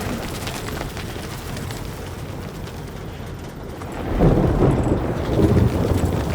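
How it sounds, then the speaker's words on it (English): Acid rain and rolling thunder in the video game Death Stranding: a steady hiss of rainfall with low rumbling that swells louder in the final seconds, with no talk over it. "Oh, acid rain."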